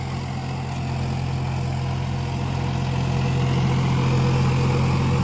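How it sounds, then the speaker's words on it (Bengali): A John Deere 5050D tractor engine drives a 72-blade Bengal rotavator under no load, a loud, steady low diesel idle-like drone that holds constant and close throughout. "জন ডিয়ার 50-50D গিয়ার পুরো 72 ফাল বেঙ্গল রোটারে এরকম চলছে।"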